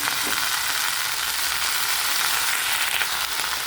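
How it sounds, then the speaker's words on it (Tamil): Fresh mint leaves sautéing in oil with onion, ginger and garlic for mint chutney give a steady, close, loud sizzle and crackle throughout, with faint stirring and no talk. "இது அப்படியே இந்த எண்ணெயிலே நல்லா வதங்கணும்"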